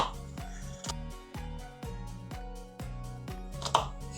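A knife chopping an onion on a cutting board in a home kitchen, with about nine to ten evenly spaced, close cuts under soft background hum.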